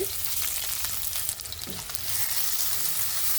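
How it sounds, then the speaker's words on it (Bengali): Chopped onions fry in soybean oil in a non-stick kadai, giving a steady, close hiss and crackle with faint stirring scrapes throughout, no voices. "আমি এখানে নন স্টিক কাড়াই তুলে দিছি আমি এখন সবিন তেল দিয়ে দিচ্ছি পরিমাণ মতো তো আমি এখানে পেঁয়াজ কুচি দিয়ে দিচ্ছি"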